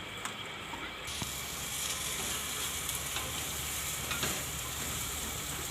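A thick semolina modak mixture is stirred in a pan over the heat, a steady close sizzle with scraping strokes running throughout.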